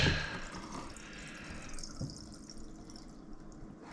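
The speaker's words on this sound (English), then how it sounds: "I'm gonna drain the water out of it." Water pours and splashes steadily out of a pot, a hissing trickle that tapers off, ending with a sharp clunk.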